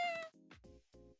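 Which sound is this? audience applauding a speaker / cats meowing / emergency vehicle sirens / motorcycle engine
cats meowing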